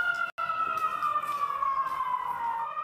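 An air raid warning siren in Israel wails with a sustained tone slowly sliding downward, steady and moderately distant, broken by one brief gap near the start.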